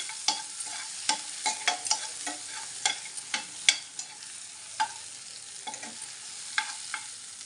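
Medicinal greens being lightly roasted in a pan for chutney: a spatula scrapes and stirs in irregular clicks and scuffs over a faint dry sizzle, close and without speech.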